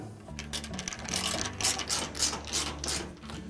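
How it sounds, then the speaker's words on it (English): Screws being driven back into the front bulkhead of a Whirlpool dryer, a quick ratcheting whir of the driver with clicking mechanical chatter, close and moderately loud, running in short bursts. "we'll reinstall the other 2 screws on the front of the bulkhead"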